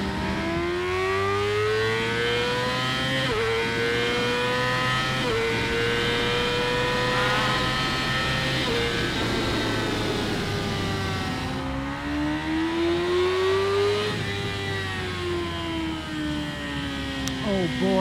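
A 2018 Yamaha R6 sport motorcycle engine revs hard and close, its pitch rising and dropping through repeated throttle sweeps over a continuous loud roar, with someone speaking over it.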